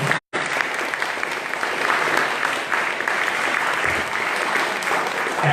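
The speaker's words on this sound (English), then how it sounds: "so big round of applause for them." A crowd at a candidates' forum bursts into steady, dense applause that carries on for several seconds after a brief silent gap at the start, with no talk over it.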